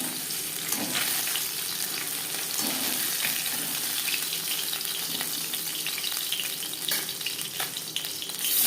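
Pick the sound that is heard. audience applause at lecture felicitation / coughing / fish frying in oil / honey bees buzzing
fish frying in oil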